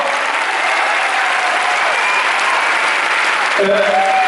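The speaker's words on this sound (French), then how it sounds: "On peut l'applaudir encore" Loud, dense applause from an audience at a film premiere, filling the room evenly for several seconds, with a brief voice or tone cutting in near the end.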